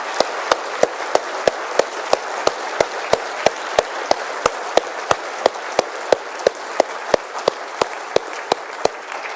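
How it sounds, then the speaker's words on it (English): Applause closes a conference ceremony, with sharp, evenly spaced claps standing out close by over a softer, steady wash of clapping from the crowd. "Big round of applause for all of those who have spoken at this conference and asked questions at this conference."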